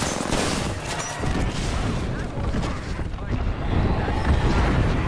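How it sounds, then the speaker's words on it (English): An airstrike in Apex Legends pounds down as a dense, continuous barrage of explosions and gunfire, loud and rumbling throughout. "airstrike's gonna kill me"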